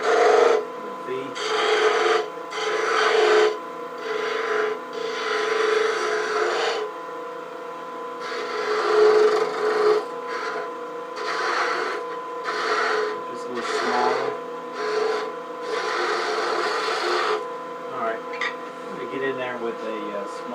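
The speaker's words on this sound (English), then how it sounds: "so I'm going to come in there with this detail gouge just to make it a little easier" Detail gouge cutting a bead on cherry burl on a lathe, rhythmic bursts of scraping, rasping cuts repeating in a series against a steady motor hum, with a voice speaking.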